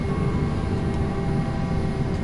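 Airbus A320 airliner taxiing toward the end of runway 35 at Corfu in X-Plane 11, a steady low engine rumble with a faint high whine, continuous and even throughout with no talk.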